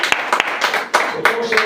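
Loud clapping from a congregation at a church service, uneven strong claps in quick succession, close and mixed with voices throughout.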